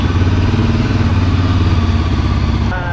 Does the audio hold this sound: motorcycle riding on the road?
yes